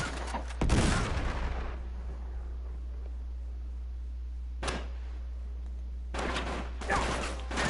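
Game gunfire in Uncharted 3: a sharp shot near the start, then a lone crack around the middle and a short burst toward the end, over a steady low game-ambience hum.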